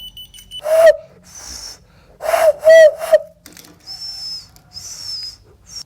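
A whistle-activated LED keychain that will not respond properly gives a few short electronic chirps and beeps, some lower and some shrill, at close range with no talking.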